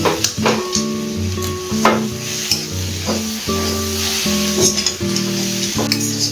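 Pumpkin greens (kumro shak) sizzling loudly in a pan, a constant close frying hiss with scattered stirring clinks, and a steady musical tone running underneath, no talk.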